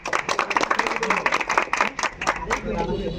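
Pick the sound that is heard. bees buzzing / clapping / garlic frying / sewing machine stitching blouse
clapping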